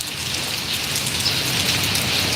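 Heavy rain falls on a Malaysian village, an unbroken, even roar of drops drumming on surfaces close by.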